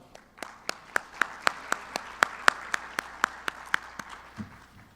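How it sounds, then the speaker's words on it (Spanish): Scattered claps from a small audience greeting a panel at a private investment funds event, about a dozen distinct sharp hand claps in loose rhythm over a few seconds, moderately close and fairly sparse. "Recibámoslos con un gran aplauso."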